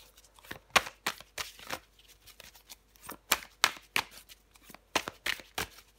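Tarot cards are shuffled by hand in a series of quick, crisp riffling bursts, close and fairly quiet, repeating irregularly throughout with short pauses between.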